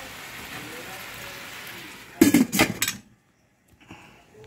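Metal lid set onto a cooking pot of chicken with kadyos beans: a short burst of loud clattering and rattling clanks, close by, followed by near silence.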